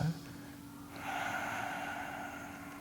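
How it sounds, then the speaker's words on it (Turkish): A slow, audible exhale through the nose during restorative yoga breathing, a soft airy breath that rises after a brief pause and trails off steadily, close and alone. "Rahat nefes ver."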